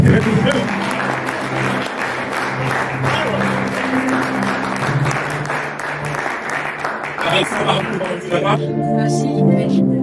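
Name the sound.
church congregation applauding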